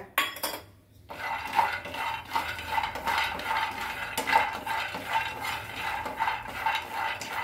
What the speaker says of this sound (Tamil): இப்போ இந்த வேர்க்கடலை வறுத்துடலாங்க.